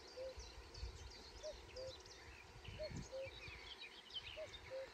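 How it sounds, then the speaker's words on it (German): Cuckoo calling outdoors in the distance, a steady repeated two-note cu-coo heard about five times at even intervals, with other birds chirping faintly around it. "Da hinten fliegt der Kuckuck."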